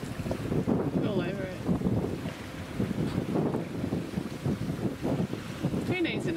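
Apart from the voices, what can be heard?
sailboat under sail in wind coming into port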